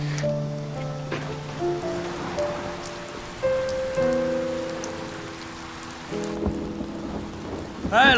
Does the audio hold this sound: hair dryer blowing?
no